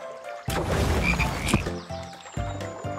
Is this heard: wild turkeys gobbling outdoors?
no